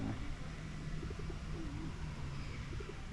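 Soft, low pigeon coos repeat faintly beneath a steady background hum of outdoor noise in a park near a Ferris wheel.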